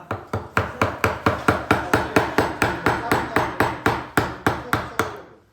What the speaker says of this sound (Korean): 끌과 망치를 가지고 중간면 표현해 볼게요